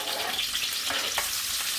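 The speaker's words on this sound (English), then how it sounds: "The smell of onions and peppers frying is incredible." Onions and peppers fry in an oiled pan just used for chicken, giving a steady, close sizzle with scraping sounds from stirring and no voices.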